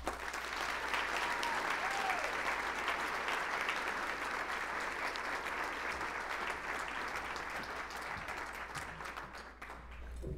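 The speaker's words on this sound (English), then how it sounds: "let's give another round of applause to all our Beta Club" Sustained applause at a homeschool graduation ceremony honoring Beta Club members, a steady wash of clapping from a sizable crowd at moderate distance, with a faint low hum beneath it.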